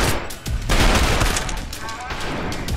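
Rapid gunfire in the first-person shooter Trepang2, with dense overlapping automatic bursts and booming impacts, loud and continuous for under three seconds.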